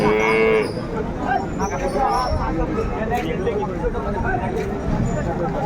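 Cows and calves low at a busy village cattle market, with one clear moo at the start over a dense crowd din, while people talk nearby throughout.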